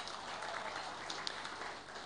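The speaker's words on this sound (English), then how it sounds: "Please give a round of applause and a big wow" An audience at an awards ceremony applauds with dense, steady clapping that fills the room and stays even in strength throughout.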